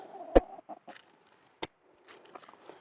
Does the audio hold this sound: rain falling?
no